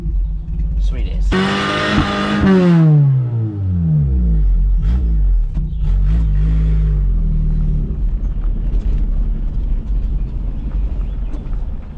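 Cold vehicle engine revving hard then settling into a loud, rough low rumble that keeps running steadily, heard close up.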